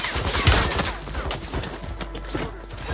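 Dense, chaotic gunfire in the online shooter Warzone, rapid overlapping shots and impacts, loud and continuous throughout with no talking over it.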